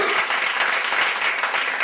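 A church congregation claps together in sustained, dense applause, loud and even throughout.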